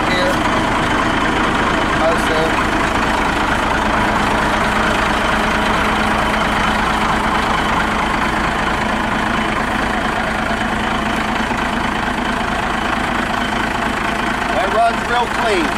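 A 1998 truck engine with 314,000 miles idles loudly and steadily, a low continuous rumble with a faint voice briefly over it near the end.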